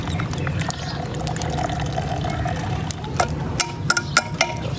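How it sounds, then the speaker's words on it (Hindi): Tea brewed over a wood fire in a village setting is poured into a cup, giving a steady liquid stream and trickle under a low background hum, ending with a few brief clinks and splashes. "ये कप में डाल रहे हैं जी।"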